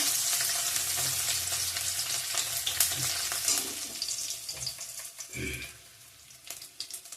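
Bay leaf, onion and dried chili frying in hot oil, a steady crackling sizzle with occasional stirring clinks and scrapes, fading somewhat toward the end.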